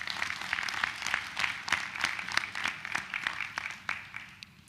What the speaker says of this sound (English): Chuckwell a round of applause.